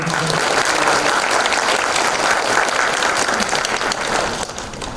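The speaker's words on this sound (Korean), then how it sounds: "우리 격려와 감사 박수 한번" Dense, sustained applause from an indoor audience at a Korean lecture event, many hands clapping together steadily and loudly for several seconds, easing slightly toward the end.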